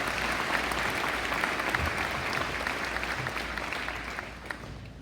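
A graduation ceremony audience claps in a broad, steady round of applause that fills the hall evenly and fades slightly toward the end.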